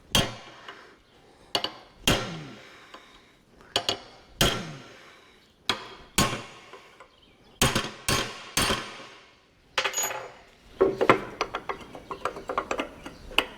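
Metal tractor part being hammered back into a divot: sharp, loud metallic blows ring out one at a time with short decays, irregularly spaced, then quicker lighter taps near the end.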